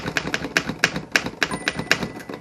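Rapid keystrokes on a 1917 Underwood No 5 manual typewriter, a steady run of about a dozen sharp, loud, close metallic strikes in quick uneven rhythm, with no talk.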